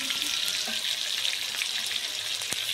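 Onion, garlic and ginger paste frying with spices in a pan for a fish curry, giving a steady close hiss of sizzling oil with faint scraping stirs.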